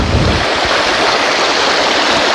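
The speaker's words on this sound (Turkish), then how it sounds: "Böyle akan deren içerisine masamızı kurduk" A flowing stream in Üzümdere National Park, running around a picnic table set up in the water, makes a steady, close, continuous rush and gurgle with no pauses and no voices.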